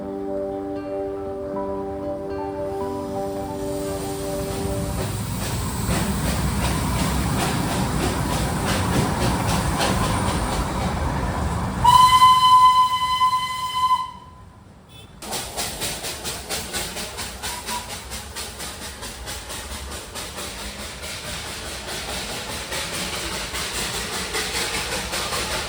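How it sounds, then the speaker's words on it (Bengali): Darjeeling toy train in the hills, a steady rumble and hiss of the running engine, a loud clear whistle blast in the middle, then continuous noisy chugging and hiss close by. "ছোট থেকে বড় সব্বারকার বহুপ্রিয় এই দার্জিলিং টয় ট্রেন।"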